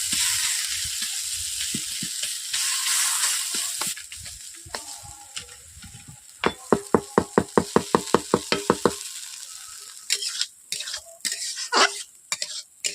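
Potatoes being stirred and pressed with a masher in a hot, sizzling pan for a village-style bread chop filling: steady frying hiss with a rapid series of sharp metal taps against the pan, then scattered scrapes.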